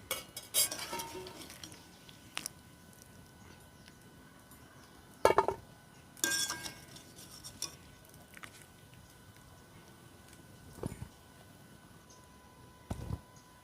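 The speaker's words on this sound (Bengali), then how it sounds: "এবার আমি ফুলকপিটাকে তুলে নেবো একটা গামলির মধ্যে" Half-boiled cauliflower is lifted from a pot into a bowl: sparse clinks and scrapes of a utensil against metal cookware, with quiet gaps between the knocks. No voices.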